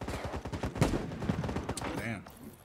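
Rapid gunfire from the video game Battle Prime rattles in quick bursts of sharp shots, loud and close, with voices talking over part of it.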